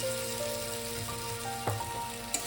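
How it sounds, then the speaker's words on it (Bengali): Water goes into spice paste frying in a pan for a Bengali fasha fish curry with potato and eggplant, raising a dense close sizzle with a brief splashy burst. "মশলাটা আমার কষানো প্রায় হয়ে এসছে, এবার আমি জল দিয়ে দেবো"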